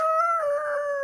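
A man imitates a rooster crowing using only his mouth, producing one short, sustained, nasal tonal cry that is rich in harmonics and slightly wavering, heard close and alone.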